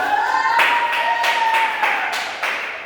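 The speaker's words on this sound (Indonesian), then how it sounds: "Ya, tepuk tangan buat Mbak Dini." Children in a combined grade 3 and grade 5 classroom clap for a classmate, in scattered bursts of hand claps over a steady thin tone running through the room.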